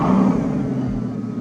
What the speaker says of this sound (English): Could we get it revving and then you just slowly creeping forward?